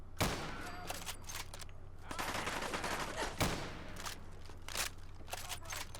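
Gunfire from a sniper rifle fired indoors in the video game Fallout 4, with sharp shots and rapid crackling bursts over a dense, continuous din of battle.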